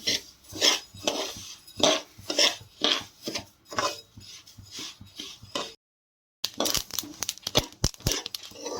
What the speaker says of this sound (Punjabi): ਜਦੋਂ ਟਕ ਟਕ ਦੀ ਆਵਾਜ਼ ਆਉਣ ਲੱਗ ਜਾ ਪਤਾ ਲੱਗ ਜਾਂਦਾ ਵੀ ਆਲਸੀ ਭੁੱਜਣ ਲੱਗ ਗਈ ਆ